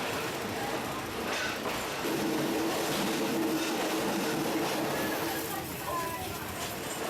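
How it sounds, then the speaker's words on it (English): A passenger train rumbles steadily along the rails of a railway near Nam Tok station, Thailand, with a continuous clatter and hum, and a voice talks over the noise. "We caught the train at Nam Tok station and travelled on a section of it."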